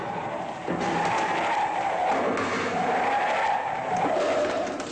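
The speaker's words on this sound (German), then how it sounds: "Der Wagen bricht aus, gerät ins Schleudern, dreht, bricht total aus der Spur." An Audi 80 skids and spins out while braking hard from 80 km/h on a slippery test surface, with a sustained loud tire squeal that rises and wavers for several seconds.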